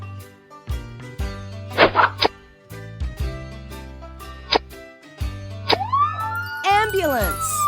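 A short electronic wailing ambulance siren sweeps up and down among playful game chimes and sound effects in a children's picture-matching game.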